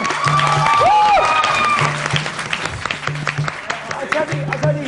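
Studio audience applause on a morning TV show, scattered claps becoming more distinct toward the end, with voices and tonal sounds over the start.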